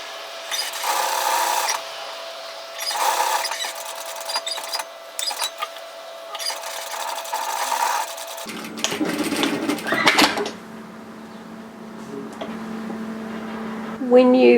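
Bursts of a sewing machine stitching through a knit sweater collar, folded along the top edge, stop and start in short runs, and a voice talks between and over the runs.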